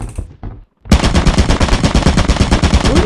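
A turret in Lethal Company unleashes a loud, rapid automatic burst after a brief silence, dense evenly spaced shots running on without pause, preceded by a few low thumps.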